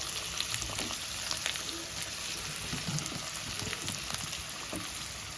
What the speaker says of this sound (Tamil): இப்போ எண்ணெய் காஞ்சதும் நம்ம கட் பண்ணி வச்சுக்க பெரிய வெங்காயத்தை இதில் சேர்த்துக்கிறோம்